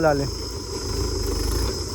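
A tractor engine runs steadily while a field is being ploughed, giving a constant low, throbbing rumble close by, with voices heard faintly over it.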